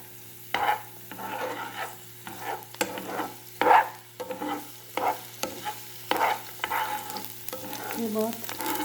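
Chopped garlic and spinach sauté in olive oil, with a soft steady sizzle broken by repeated scraping and stirring strokes of a utensil against the pan, close and fairly quiet, and no one talking.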